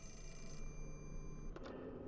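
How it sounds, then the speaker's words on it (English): A telephone rings with a steady electronic bell tone in a video game set in the Mask of the Lunar Eclipse, continuous and fairly close for the whole moment, with a brief extra click near the end and no talking. "Okay, yes, I will pick up the phone, please."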